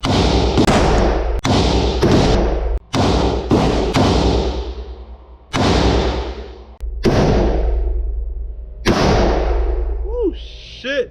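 Loud, reverberant gunshots at a gun range, about ten sharp blasts in irregular succession, each with a booming decay, followed by a brief voice at the end.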